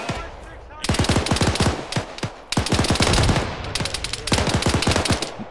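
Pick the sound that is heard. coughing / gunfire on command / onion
gunfire on command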